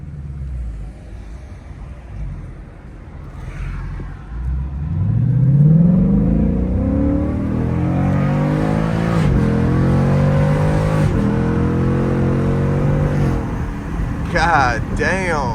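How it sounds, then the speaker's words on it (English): A 2019 Ford Mustang GT 5.0 V8 revs up through several gear shifts on a backroad drive, its rising engine note dropping at each change, heard from inside the car with some talk over it. "You hear these shifts?"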